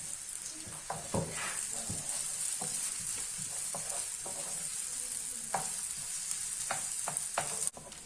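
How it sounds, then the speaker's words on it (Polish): Chopped onion fries in hot oil in a pan, a steady broadband sizzle running throughout with scattered pops and light stirring scrapes, close and moderately loud, no voices. "Na rozgrzany olej wrzucamy naszą pokrojoną cebulkę i musimy ją ładnie zeszklić."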